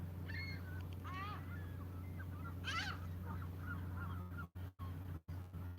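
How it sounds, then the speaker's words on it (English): Herring gulls and ring-billed gulls call repeatedly along the St. Marys River at Sault Ste. Marie, a few clearer squawks rising over steady low rumble and background noise, with a couple of sharp dropouts near the end. "A lot of herring gulls up here and ring-billed gulls."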